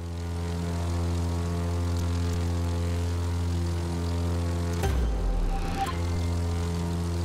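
A propeller airplane in The Crew 2 racing game drones steadily with a loud, tonal engine hum that shifts abruptly near the end as the plane maneuvers.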